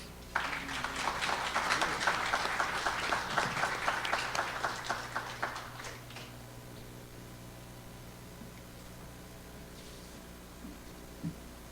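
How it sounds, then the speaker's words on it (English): Audience applauding at a student business pitch event, dense clapping for about six seconds that then stops, leaving quiet room tone with a faint knock near the end. "Let's give them a big round of applause."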